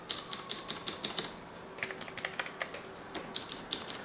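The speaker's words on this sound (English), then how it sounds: "so this is the membrane keyboard, I suppose" Typing on a Razer Lycosa membrane keyboard: quick, close bursts of soft key clatter, with a short pause midway before the keystrokes resume.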